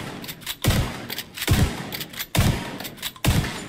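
Four heavy shotgun blasts from a KSG shotgun in Tom Clancy's The Division 2, booming at a steady, slow rhythm about a second apart, each with a sharp thump and short decay.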